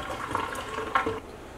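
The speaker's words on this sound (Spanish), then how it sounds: "Entonces lo que voy a hacer por acá es colarlo." Water from cooked sweet potatoes poured off through a strainer, a steady splashing, running pour that stays close and fairly even, with a couple of louder gushes before it thins out near the end.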